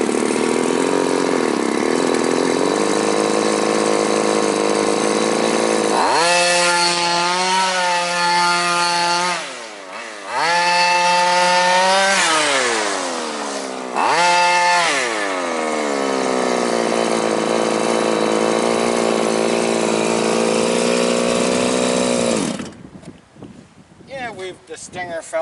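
Small two-stroke engine of a quarter-scale Mad Max Baja RC truck with a broken exhaust stinger, buzzing loud and raspy, revving up in repeated rising whines before cutting off near the end.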